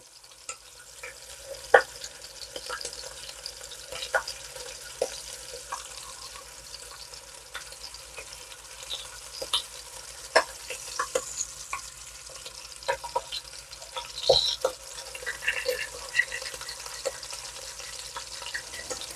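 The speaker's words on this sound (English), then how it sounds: "So I'm going to finish browning these on all sides" Short ribs searing and browning in a pan, a low steady sizzle dotted with sharp pops and spatters, fairly quiet and close, with no talking.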